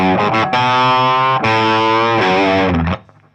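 A distorted electric guitar plays a song part with downpicked chords, a few sharp chugs and then sustained ringing notes, loud and alone before a quick cutoff.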